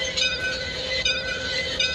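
A Bangladeshi train in a simulator game hums steadily with a sustained engine drone and bright tonal whine, broken by faint recurring clanks, with no talking.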